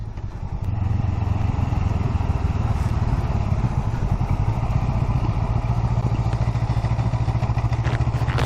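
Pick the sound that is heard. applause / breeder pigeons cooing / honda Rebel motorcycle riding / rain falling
honda Rebel motorcycle riding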